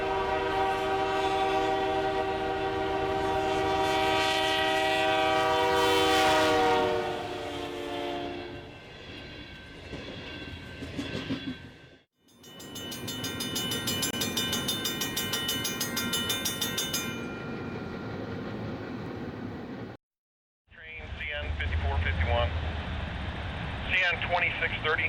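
A CN freight train of iron ore cars passes with loud, sustained horn blasts followed by rumbling rail and wagon noise, broken by brief gaps, with a voice heard at the end.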